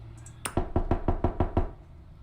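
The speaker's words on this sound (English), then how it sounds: "The door is cold against your fingers as you rap it against the door." A mansion's front door in the video game Boyfriend Dungeon is struck sharply with a raven-headed door knocker: a light tap, then seven evenly spaced, resonant knocks, close and loud, alone with no voices.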